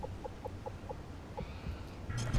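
A chicken clucks in the video game Call of Duty Modern Warfare 2, a run of short evenly spaced clucks fairly close, followed by a louder burst of game noise at the end.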